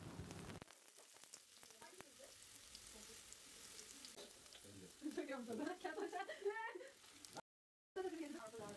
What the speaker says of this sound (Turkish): Bir tencereye çeyrek bardak ayçiçek aldım ve üzerine küçük küçük doğramış olduğum soğanları ilave ettim.